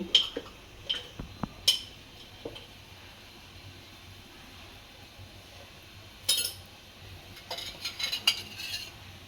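A metal spoon clinks and scrapes against a bowl while mixing roasted brinjal chutney, North Karnataka style, with oil, salt and sesame powder. Sharp clinks come in scattered bursts with quieter stirring in between, close by and without talk.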